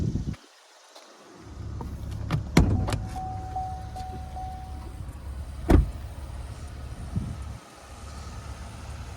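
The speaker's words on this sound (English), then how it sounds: "Now I'm just gonna open the hood." Mechanical clunks and a latch release as the hood of a 2023 Cadillac XT5 Sport is opened, with a sharp metallic thud midway and a faint whine, set against low rumble from its 3.6-liter V6 engine bay.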